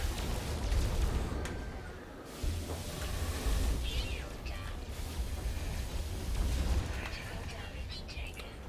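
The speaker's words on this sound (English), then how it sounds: "It's these 4 ships that are all shooting at me" In No Man's Sky, four enemy starships fire on the player's ship, producing a dense barrage of rumbling booms and bursts over a constant low engine roar, with louder surges of fire coming in waves.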